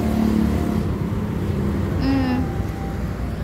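A green motorcycle's engine running close by with a steady low rumble that holds at an even level, a brief higher whine briefly rising over it midway.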